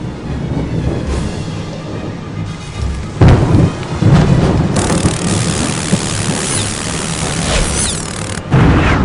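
Thunderstorm in the Harry Potter and the Prisoner of Azkaban PC game: loud steady rain with repeated heavy thunder rumbles and booms, close and dominant, with no voices.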